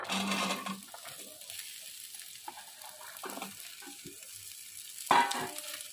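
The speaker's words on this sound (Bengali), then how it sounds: "এবার আমি আলুটা দিয়ে দেবো।" Potatoes added to hot oil in a pan for a spicy potato curry, giving a loud sizzling burst at first that settles into softer, intermittent crackles and a few light clinks.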